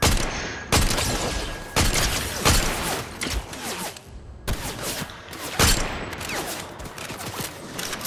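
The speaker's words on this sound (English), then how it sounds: "Where's the shooting at?" Distant gunfire in the Fortnite video game: bursts of rapid shots in clusters with brief gaps between volleys, fairly loud and sharp, with no talk.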